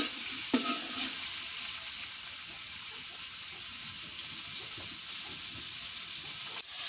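Fish pieces frying in oil in a pan until reddish, a continuous close sizzle with a sharp clink of a utensil near the start and occasional soft stirring scrapes.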